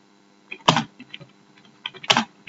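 Keys clatter on a computer keyboard as an address is entered, with short bursts of quick taps and two louder keystroke clusters, close and clear, with no speech.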